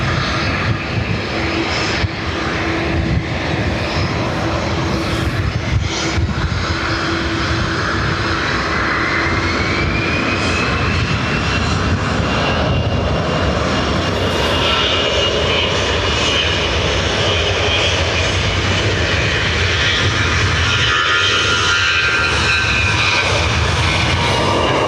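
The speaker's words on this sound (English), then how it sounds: "So this Aer Lingus is off to Lisbon." An Aer Lingus airliner departs from runway 10 right at Dublin Airport, bound for Lisbon. A loud, steady roar of engines holds throughout, swelling as it climbs away, with a rising whine audible over the constant rumble.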